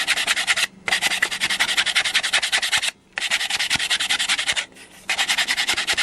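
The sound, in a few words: sanding soundboard edge with rough sandpaper on sanding block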